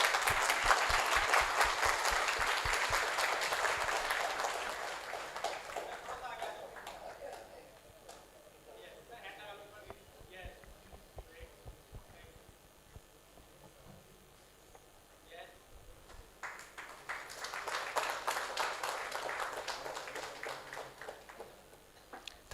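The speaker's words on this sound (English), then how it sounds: "Can we have a huge round of applause?" An audience at a valedictory ceremony breaks into loud applause that swells at the start, fades to scattered claps in the middle, then rises again near the end.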